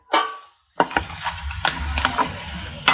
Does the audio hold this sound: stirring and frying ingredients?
yes